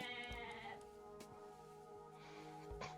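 A sheep in the strategy game Age of Mythology bleats in a drawn-out, wavering cry, followed by a second bleat a moment later, clear and close over a quiet background.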